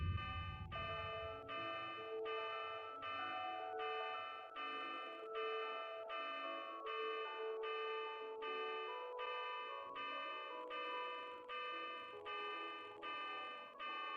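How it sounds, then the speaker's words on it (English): A sunset chime in a Japanese horror video game plays at six o'clock: a steady, bell-like melody of evenly repeating tones that rings on clearly for the whole stretch. "the time hits 6 o'clock, and we hear the sunset chime again"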